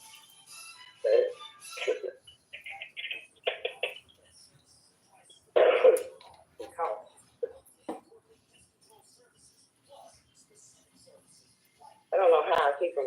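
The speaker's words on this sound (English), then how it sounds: "That's the pollen's making me coughy." Someone coughs and clears their throat from pollen amid quiet conversation in a radio studio; brief rough bursts interspersed with soft talking, close to the microphone.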